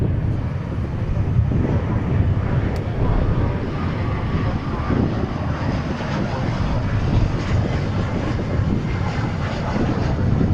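American Airlines flight 3267 from Guadalajara arriving at Dallas Fort Worth International Airport, a steady, loud jet roar that holds without a break for the whole stretch.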